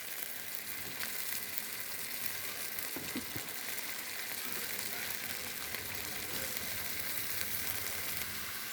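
Flattened rice (chira) fries in a pan with a constant, even sizzle, and quiet scraping and stirring strokes come through now and then over the hiss.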